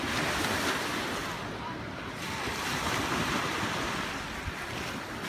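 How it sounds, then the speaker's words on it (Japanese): Continuous broadband wash of sea surf breaking on the beach at Ranshima, steady and fairly loud with wind buffeting the microphone throughout and no talk. "海"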